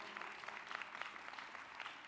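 An audience at an NAACP convention applauds in a brief, even burst of clapping, fairly faint and distant, with no pauses.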